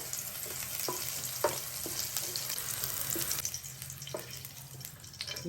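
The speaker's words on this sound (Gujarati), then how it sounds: "અને પણ થોડા ક્રિસ્પી થાય ને ત્યાં સુધી તળવાના છે." Nylon poha (flattened rice) for chevdo crackles and sizzles in a pan, cooked with little or no oil, with soft, steady sizzling broken by repeated stirring scrapes close by.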